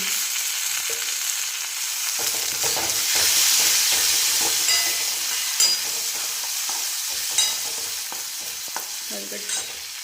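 Tomatoes frying and being stirred in a pan for dal palak, a steady loud sizzle with scraping spatula strokes throughout, no voices.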